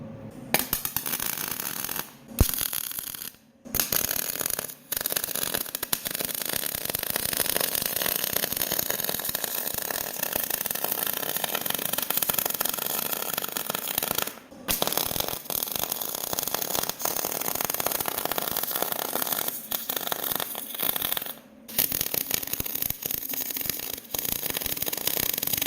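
Harbor Freight Vulcan MigMax 215 MIG welder, set in manual mode, fusing 1/4" steel to 2" cold rolled tube: a loud, steady crackling buzz running almost continuously, broken by a few brief pauses between beads.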